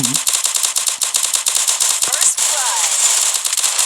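Rapid bursts of Free Fire video game gunfire crackle steadily throughout, sharp repeated shots with a brief synthetic swoosh effect near the middle.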